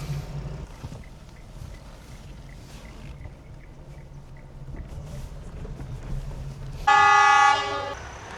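A diesel-engine train rumbles steadily past nearby in a valley village near Ooty, its low engine drone filling the scene, then a loud horn blast sounds near the end.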